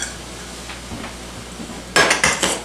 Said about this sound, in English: So we're going to do that in 2-inch pieces. We're going to break it up